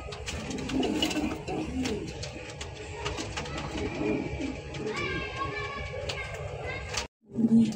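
King and racer pigeons coo repeatedly, fairly close, among rustling and scattered bird calls, with someone talking over them.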